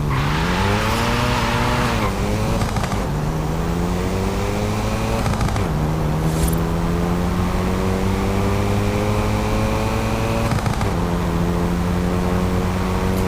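A Hyundai i30 N in Forza Horizon 5, its engine loud and close, revving up through gears with rising pitch, dropping at each shift, with tire squeal and a brief skid along the way.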